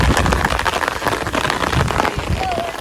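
Rain falls steadily in a village, a dense continuous patter of drops on surfaces close by, with a voice talking faintly beneath it.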